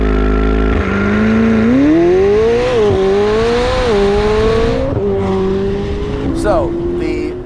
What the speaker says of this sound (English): Still getting plenty of turbo whistle going on there.